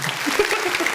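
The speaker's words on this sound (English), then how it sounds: "Give you a round of applause for that one." On a casual couch podcast, a short burst of applause rings out, bright and close, lasting about a second with no voices over it.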